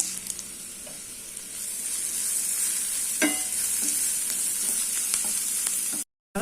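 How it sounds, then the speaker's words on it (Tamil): Onions sauté with asafoetida in a pan for a drumstick stir-fry, giving a steady close sizzle with occasional stirring scrapes, and no talking. "இந்த வெங்காயம் ஓரளவுக்கு வதங்கட்டும்"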